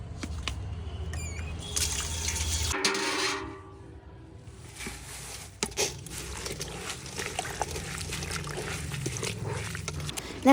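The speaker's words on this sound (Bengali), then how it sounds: "তবে ওই যে তাও একটু ভালো করে ধুতে হয়, তাই সেটাই ধুচ্ছি।" Leafy greens are washed by hand in water, giving soft sloshing and trickling with occasional splashes and clatter. The sounds stay fairly quiet and close throughout.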